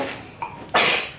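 A single short sneeze, close and sharp, preceded by a faint sharp intake of breath.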